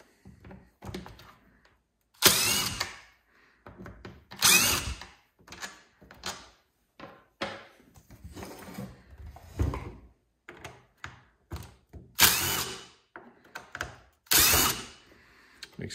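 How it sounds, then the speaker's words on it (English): A DeWalt impact driver with an Irwin T27 bit removes screws from a Stihl 026 chainsaw, with several short loud hammering bursts between quieter clicks and handling sounds. "My favorite tool, the Irwin T27 on my DeWalt Impact."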